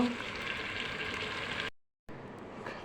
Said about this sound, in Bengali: মুরগির মাংসটা এর মধ্যে ছেড়ে দিলাম এখন নেড়ে দেব